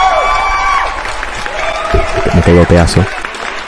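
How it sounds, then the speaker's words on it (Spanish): A crowd applauds and cheers for the winner of a followers' gaming setup contest, with loud talking over the clapping throughout. "quiero que recibamos con un muy fuerte aplauso al ganador del más cebado"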